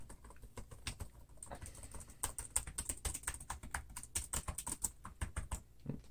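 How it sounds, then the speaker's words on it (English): Rapid typing on a laptop's chiclet keyboard, in a budget Motile Ryzen 5 laptop: a dense, irregular run of light plastic key taps, close and fairly quiet, with brief pauses, alone without talk. "The keyboard's not too bad on this guy."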